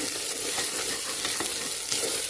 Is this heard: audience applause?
no